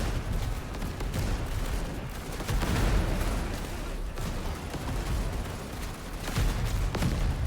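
Gunfire from soldiers fighting in the video game Over the Top, a dense, continuous battlefield roar of overlapping distant shots and thuds with no distinct single reports.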